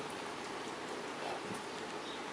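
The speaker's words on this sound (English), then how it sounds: "It's sprinkling a little bit, but it's not bad." Light rain sprinkling outdoors, a soft, steady hiss of fine drops with no distinct patter, faint and continuous throughout.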